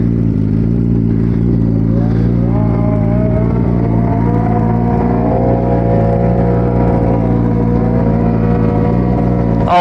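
A turbocharged Suzuki Hayabusa motorcycle idles and revs at the line before a launch, a loud, steady engine drone up close with rising harmonics and rattly clatter.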